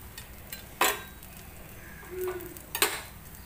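Refined oil drizzled over a cooking suji (semolina) dosa and spread around, giving a steady low sizzle with two sharp scraping strokes and a soft swirl in between, close and fairly quiet.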